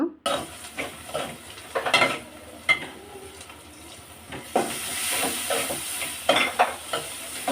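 Vegetables stirred and frying in a pan in a home kitchen: steady sizzle under repeated scraping and clinking of a utensil against the pan, close and fairly loud, with no talking.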